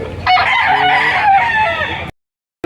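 A white Kelso gamefowl rooster, about three years old, crows once loud and close, a long strained call of roughly two seconds ending abruptly.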